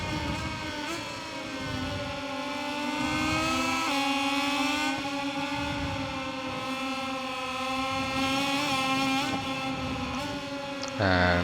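Racing motorcycle engine from the MotoGP 21 video game wails steadily at high pitch, rising and falling through gear changes over a long continuous stretch with no speech.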